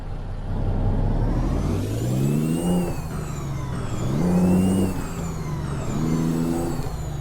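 A Ford LTL9000 truck engine in American Truck Simulator revs up through the gears in repeated rising pulls, its deep drone climbing and dropping with each shift and a turbo whine above, steady and close with no talk.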